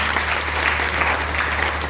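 An audience at a poetry gathering claps steadily and densely, a continuous wash of applause close by with no break.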